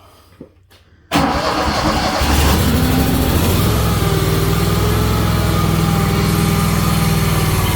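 A Toro Z255 riding lawn mower that has sat unused for weeks cranks and catches after a second of quiet, then runs on at a loud, steady idle with a constant buzzing drone close by.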